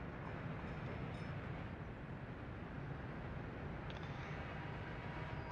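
A train in the video game Workers & Resources: Soviet Republic rumbles steadily and faintly, a low continuous rolling noise with no voices.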